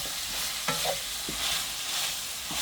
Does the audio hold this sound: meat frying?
yes